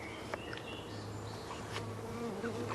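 Honey bees buzz steadily at the small entrance of a nucleus hive, a close, continuous droning hum with individual workers flying past now and then.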